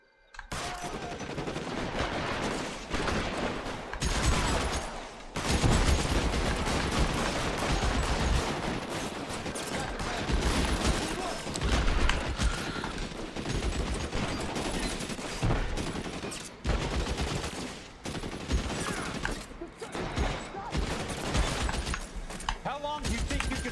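Heavy gunfire in the L.A. Noire shootout: bursts of rapid shots and booming blasts crowd together in near-continuous volleys, loud and close, broken by brief lulls, with someone talking over them.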